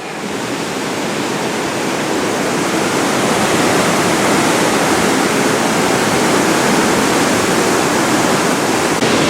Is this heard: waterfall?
yes